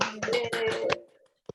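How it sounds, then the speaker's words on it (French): A small group in a laughter wellness session claps in quick uneven bursts and then abruptly stops, followed by a short pause and a single faint tap. "Vous allez applaudir en faisant « Ouais !»"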